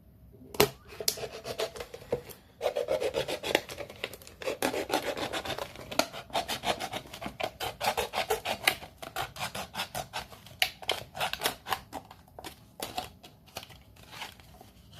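Craft material for a Beltane-themed Barbie is being cut, with dense, close rasping and rubbing strokes in quick irregular bursts that thin toward the end.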